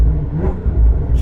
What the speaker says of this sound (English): Now, I've got a tuned exhaust